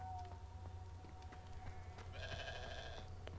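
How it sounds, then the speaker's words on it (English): A goat bleats in the Hogwarts Legacy video game, a faint nasal cry rising near the end over a quiet low ambient hum, with a few soft clicks scattered throughout. "I heard a goat."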